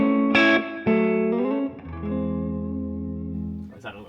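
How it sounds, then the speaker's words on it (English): Electric guitar played on the neck pickup through a 2-Rock Bloomfield drive amp: a few sustained, warm notes and chords, close and clean with a little ringing decay. "Let's just play on that neck pickup and see what we've got."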